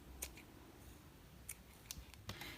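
Scissors snip crochet yarn close by for an amigurumi doll in a few sharp, quick cuts over a quiet background.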